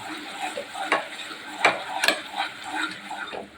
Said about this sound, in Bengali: সব কিছু মশলা সুন্দর করে কষানো হয়ে গেছে